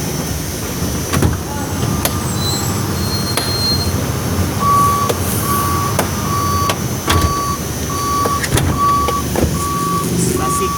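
A truck backing down a ship's loading ramp at high tide emits a steady series of evenly spaced reversing beeps over a rumbling engine and road noise, continuing for several seconds.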